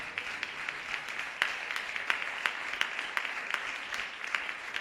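A church congregation claps steadily together, a dense wash of applause with sharper individual claps scattered throughout at moderate distance. The clapping stays fairly even for the whole stretch, with no clear voices over it.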